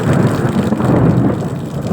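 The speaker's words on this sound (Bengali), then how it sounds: "আর এদিকে পানি পড়ছে ভালো জোরে, এখনো হালকা হালকা ঝড় হচ্ছে" Heavy rain pours down during a storm, a dense, loud and unbroken rushing wash with no voices.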